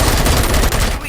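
A brief, loud burst of rapid gunfire in the video game RoboCop: Rogue City, a dense string of close shots packed into about a second.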